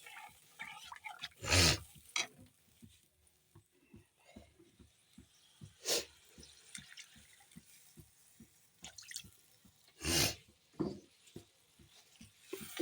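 Water is added to a spiced rohu fish curry in a pan, heard as three short, bright splashing bursts spaced several seconds apart over a faint, regular ticking and simmering background, with no speech.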